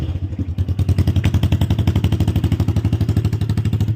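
A CBZ motorcycle with a broken, cracked silencer idling close by, its exhaust throbbing in a loud, rapid, even popping beat that holds steady throughout, with no talk.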